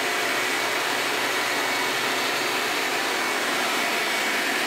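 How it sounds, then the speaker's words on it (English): A shop vacuum roars steadily while pulling debris through a dust collector separator, a loud, constant broadband whoosh with no variation and no voices. "We're done, so let's turn off the vacuum."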